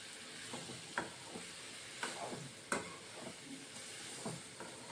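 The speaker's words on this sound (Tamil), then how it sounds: "நல்லா வதக்கிக்கலாங்க இத." Onions and tomato sauté in a pan for a chicken gravy, giving a soft, steady sizzle with occasional stirring scrapes and clinks, faint and close with no talking.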